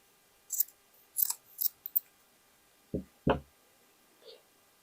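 Scissors snipping through blouse fabric for a sewing project, several sharp separate cuts and clicks in quick bursts, close and quiet with silence between them.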